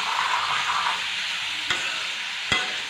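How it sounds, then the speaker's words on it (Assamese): Goat meat frying and stirring in a pan, with a steady broadband sizzle throughout and two brief sharp scrapes or knocks of a spoon near the end, no talking. "ছাগলীৰ মাংসটো, গতিকে অকণমান বেছি টাইম ভাজিব লাগিব।"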